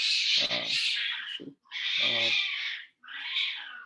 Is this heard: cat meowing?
yes